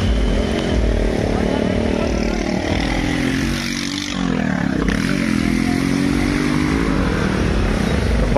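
Motorcycles ride through a flooded road in Haridwar during heavy rain, their engines droning steadily and loud up close with some clatter and splashing, while background chatter runs throughout.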